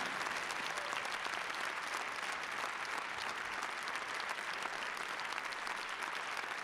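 Steady, dense applause from a large audience at a national music awards ceremony, loud and continuous throughout with no pauses or voices standing out.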